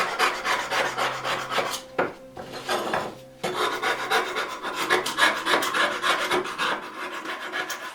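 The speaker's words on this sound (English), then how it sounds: "Scrape off the cap iron." Steady rasping scrape of a tool working rust off a hand plane's cap iron, close and continuous with a short pause near the middle, then resuming in dense repeated strokes.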